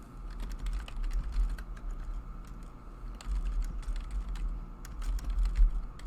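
Keys clatter in a steady run of quick, light clicks on a computer keyboard, moderately close, with no talking over them.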